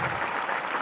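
Audience applause fills a hall at a school program, a dense, steady burst of many hands clapping together with no voices over it.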